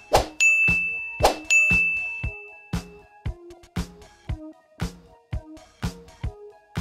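A notification-style bell rings again and again in bright, clear metallic dings, each one decaying quickly, at a fairly even pace, with no voices.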